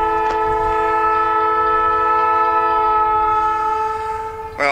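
A freight train sounds a loud, sustained multi-tone horn throughout, a steady chord held close and strong for nearly five seconds, with the rumble of the passing cars beneath it.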